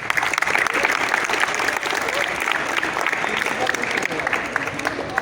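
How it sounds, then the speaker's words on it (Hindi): Workshop participants clap together in a room, a fairly loud, uneven burst of applause with some voices mixed in. "ताली।"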